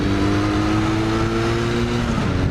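A Kawasaki LTD440 motorcycle under hard throttle produces a steady, loud engine drone with a sustained tone and mild pitch change, heard alone with wind noise.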